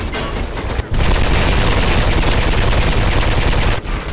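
Sustained automatic gunfire in the first-person game Mirror's Edge, a loud, dense rattling burst lasting about three seconds between shorter bursts at the start and end, with no speech.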